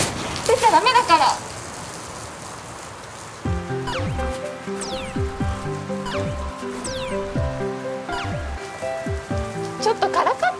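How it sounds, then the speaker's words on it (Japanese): Rain falls steadily and fairly loudly, a dense patter washing over everything, with a stretch of gentle music joining midway. "あ、雨止むかな。"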